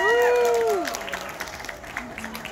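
Concert crowd at a live show applauding and cheering, opening with a sung or shouted tone that fades into a moderate wash of clapping and crowd noise, with a faint voice near the end.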